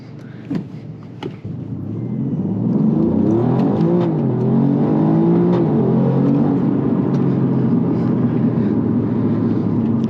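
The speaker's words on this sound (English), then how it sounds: "when you have it in the dynamic mode, and you just punch it, it has a really good acceleration" A 2024 Alfa Romeo Giulia Quadrifoglio in dynamic mode accelerates hard from a lower rumble into a loud, sustained engine roar rising in pitch through the gears, heard from inside the car.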